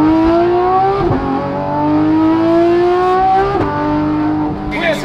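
Porsche GT3RS with a Dundon Motorsport megaphone exhaust pulling hard through the gears, its loud high-pitched engine note climbing steadily with two quick shift breaks and a brief squeal at the end.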